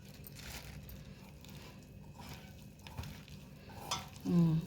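Peanuts are mixed by hand into a thick flour batter for crispy palli pakodi, giving a soft, faint, wet squelching with a few light taps and knocks.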